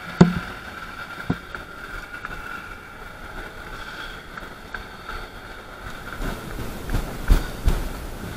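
A car engine labours steadily in first gear while climbing a steep mountain road in Sikkim, a continuous low drone with a few knocks and rattles near the end.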